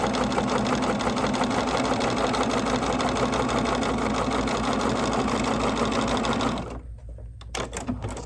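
A sewing machine stitches a seam on a quilt block, running loud and steady at close range for most of the clip, then cutting off abruptly into brief fabric handling noises.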